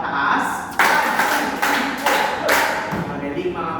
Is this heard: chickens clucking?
no